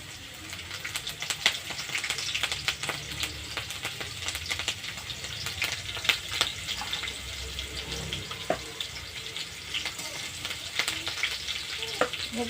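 Green chilies sizzling in hot oil with garlic that has turned red, a steady busy crackle with small pops and occasional stirring, close and fairly loud.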